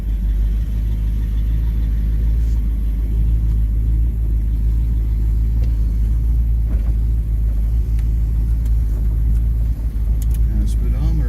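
A 1964 Ford Thunderbird on a test drive gives a steady, loud low engine rumble from inside the cabin, with faint clicks and small knocks over the drone.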